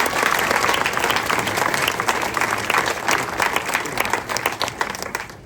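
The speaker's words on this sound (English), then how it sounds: "I think they deserve a round of applause." An outdoor crowd at the opening celebration of the 1950s cinema and shops at Beamish breaks into steady, dense applause, loud and sustained throughout before easing slightly at the end.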